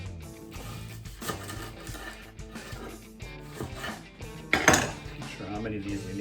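Cucumbers being chopped with a dull knife for cucumber soup: uneven clacks and thuds on a board, with a louder clatter near the end, close and fairly quiet, with no talking.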